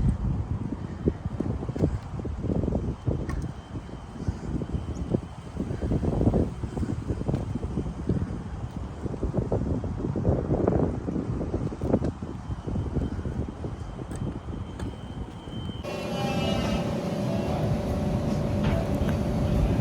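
Steady breeze rushes and buffets across an open street during a sunny, mild day on a horse-drawn carriage ride in Wilmington, North Carolina, with broadband wind noise throughout and a faint tonal hum near the end.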